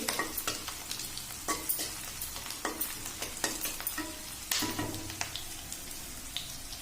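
Heron meat frying in a pan, a gentle sizzle under a regular rhythm of scraping and clinking stir strokes, fairly quiet and close.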